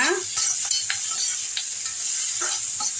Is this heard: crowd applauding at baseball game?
no